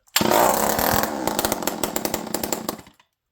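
A Homelite chainsaw engine buzzes loudly at close range for about three seconds, its note wavering and sputtering before it cuts out.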